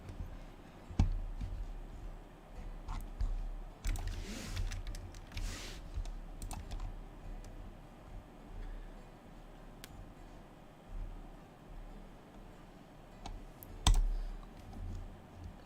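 A computer keyboard is typed on in scattered, irregular clicks, close but fairly quiet, with longer pauses between short bursts of keystrokes.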